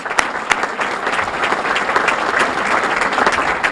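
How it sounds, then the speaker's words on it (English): Audience applause at a town reorganizational meeting, with steady, close clapping from a full room that stays loud and even throughout, a few sharper claps standing out early on. "So thank you to all the families. Let's give them a round of applause."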